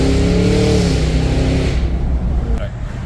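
Cadillac Escalade V engine rumbling loudly from inside the cabin as it accelerates, a deep throbbing drone that builds then eases, with a person talking over it.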